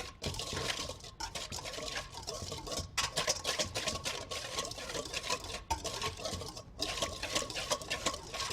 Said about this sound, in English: So I'm going to whisk this together.